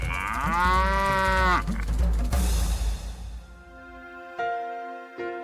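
Cows on a farm moo in long, loud, close bellows one after another, followed by fainter lowing calls in the quieter stretch that follows.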